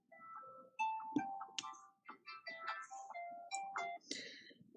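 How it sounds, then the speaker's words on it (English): A phone alarm sounds a medication reminder, a bright electronic melody of stepped tones playing steadily for several seconds in a quiet room. "That was my alarm for my meds,"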